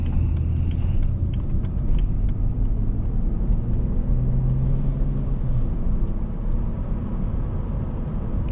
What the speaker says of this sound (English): But this car just picks up speed effortlessly.